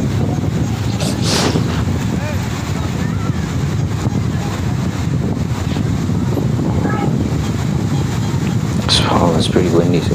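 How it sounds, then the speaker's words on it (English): Strong wind buffets the microphone while waves crash and surge on a rough southern beach, a loud, constant roar throughout with no clear talk. "So it's pretty windy, so the waves are coming in too."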